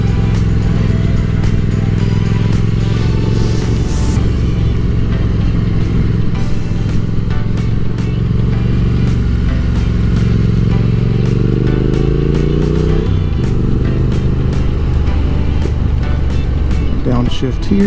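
Car engine running steadily while driving through an elementary school car line, a loud low rumble with a rising rev and a downshift blip near the end.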